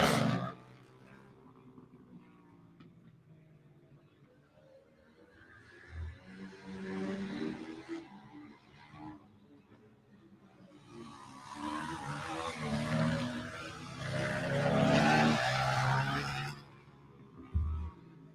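Motorcycles in a flat track race at the Jackpine Gypsies short track, a Suzuki, a KTM and a Yamaha, swell in from a distance, roar past loudly and fade away, with crowd or wind noise underneath.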